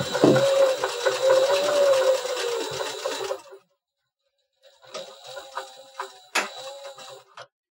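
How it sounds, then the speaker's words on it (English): A sewing machine stitches the box corner of a simple tote bag, a close, steady whirring hum that runs for a few seconds, stops, then starts again in a shorter, choppier burst. "sewing up the rest of our box corner"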